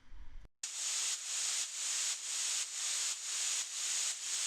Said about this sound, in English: this white noise that I washed out with a bunch of reverb, and then I pitched it down 30